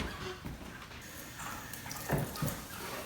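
Ingredients for a homemade salsa rinsed under a running tap, a steady close splashing rush of water with brief louder spatters.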